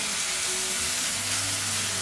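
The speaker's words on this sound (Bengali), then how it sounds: "আর এইফালে মই বনাই আছো আজি ভেন্ডি আলু ভাজা।" Okra and potato frying in a pan give a loud, continuous sizzle with a faint low hum beneath, steady throughout and with no voices.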